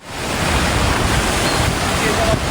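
Storm runoff from a road rushes and gushes steadily during a tropical storm, a loud, close, continuous broadband roar of flowing water that fades in at the start.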